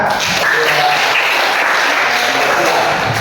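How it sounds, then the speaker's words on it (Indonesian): A classroom full of people applauding, with a dense, steady patter of clapping that holds throughout. "Ya, kita berikan tepuk tangan."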